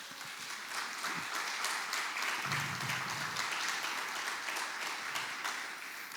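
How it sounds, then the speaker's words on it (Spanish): A church congregation applauds together in a continuous, moderately quiet wash of clapping that holds steady throughout, with a faint murmur beneath it. "Dale un aplauso al Señor."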